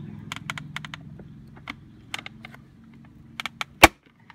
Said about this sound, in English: You'll hear the clips breaking free